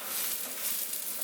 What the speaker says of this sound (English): we want this to cook a little bit, fry a little bit together